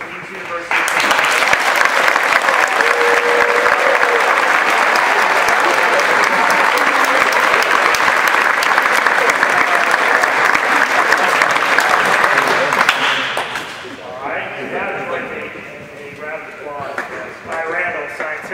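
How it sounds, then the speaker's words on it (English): Audience at a 2013 high school athlete signing day, with a sustained round of dense applause from a room full of people, lasting about twelve seconds before fading into murmuring. "But if you would please join me in a round of applause as Nathan Koons signs his letter of intent"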